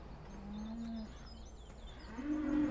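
Cattle moo in the Farming Simulator 17 video game, two drawn-out lowing calls with a pause between, moderately near over a steady ambient bed with faint bird chirps.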